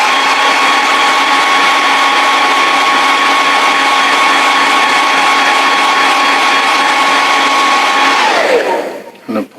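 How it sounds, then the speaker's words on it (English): Hairdryer blowing hot air onto a vinyl model figure kit, a loud, steady whirring roar with a constant tone that runs unbroken for several seconds before switching off and winding down at the end. "Okay, so I'm going to hit that with the hairdryer."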